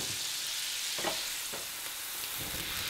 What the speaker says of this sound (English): See how it's boiling in there? It'll spit the alcohol up.